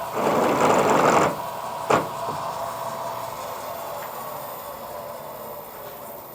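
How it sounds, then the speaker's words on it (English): A motorized drill with an 8mm bit whirs in one short burst of about a second while modifying an A-Series oil pressure relief valve, followed by a sharp knock, then a quiet room hum. "we'll go with an 8mm drill first, nice and gently"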